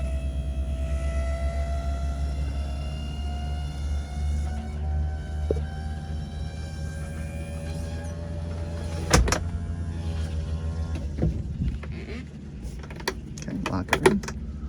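Electric convertible top on a 1969 Plymouth Road Runner whirring steadily as it moves, followed by a few sharp clunks as it locks into place.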